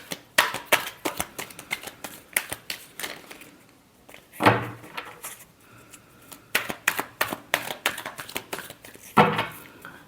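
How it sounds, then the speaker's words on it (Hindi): Tarot cards being shuffled in quick riffling bursts, a cluster of crisp flutters at the start, a sharper burst mid-way and more rapid runs toward the end, close and alone with no talk. "last shuffle"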